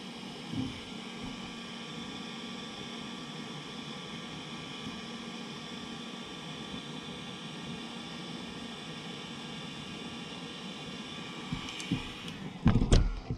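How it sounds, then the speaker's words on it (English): Heat-shrink tubing is shrunk over wire connections during a fiber-optic starlight headliner install, with a steady blower-like hum and hiss that runs throughout, followed by a few handling clicks and knocks at the end. "And we will now just heat shrink it."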